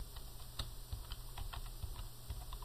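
Quiet, quick keystrokes on a computer keyboard tap in a brisk, uneven run of about a dozen presses, close and alone with no voices.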